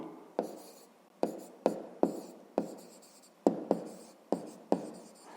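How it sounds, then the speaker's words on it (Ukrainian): Pen writing a digit by hand in a school math workbook, a series of about ten soft close taps and short scratching strokes at irregular intervals, quiet room with no talk. "Пишемо цифру"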